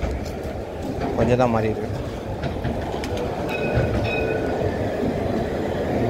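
An older Paris metro line 1 train runs with constant rumbling, clickety-clack and squealing wheel tones, while a person speaks briefly over it.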